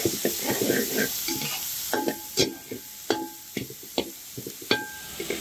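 Chopped onions sauté in hot oil in a pan for a vegetarian kurma, a steady sizzle broken by repeated scraping stirs and clinks of a spatula against the metal.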